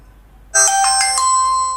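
A cheap smartphone plays a bright melodic ringtone while placing a call, starting abruptly after a short silence and continuing loud and clear with chiming notes.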